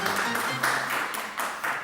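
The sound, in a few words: studio audience applauding a quiz winner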